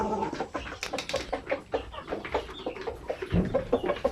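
Native Basilan chickens cluck and chatter close by in a farmyard, a steady run of short overlapping calls with a brief louder squawk near the end, no talking.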